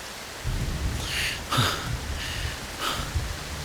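Steady rain hisses throughout, with a few heavier rumbling gusts or distant thunder rolling in and out.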